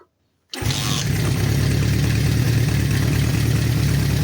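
A 1973 Honda CB500 motorcycle engine fires up abruptly after a moment of silence, then settles into a loud, steady, rumbling idle that carries on unbroken with no talk over it.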